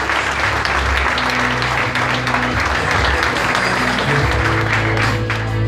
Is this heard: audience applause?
yes